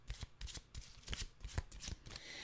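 A deck of animal cards being shuffled, a close, steady riffling flutter of cards slapping together in quick bursts, alone with no voices.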